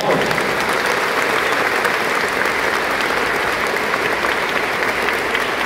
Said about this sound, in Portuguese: Uma salva de palmas para o pessoal da Catedral.